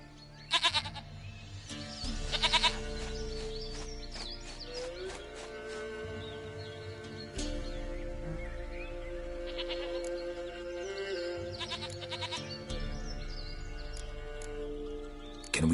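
Several short goat bleats from The Witcher 3 game ring out at intervals over a steady, soft in-game ambient drone and faint birdsong, with no voices present.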